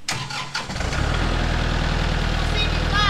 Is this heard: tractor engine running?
yes